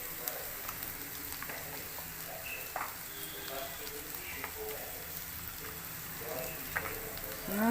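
Mixed vegetables frying in oil with turmeric and salt, a soft, steady sizzle with occasional stirring clicks, fairly faint and close.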